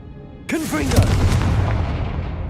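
A fiery Confringo blast spell explodes in Hogwarts Legacy: a sudden loud boom with a rushing, crackling burst that rolls on and slowly fades, with a voice talking nearby.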